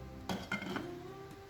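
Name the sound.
covering the pot of tom yum soup with lid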